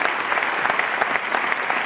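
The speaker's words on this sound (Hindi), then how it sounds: "जोरदार ताली दोस्तों।" Steady audience applause at a business networking seminar, dense and continuous clapping filling the room for a couple of seconds with no voices over it.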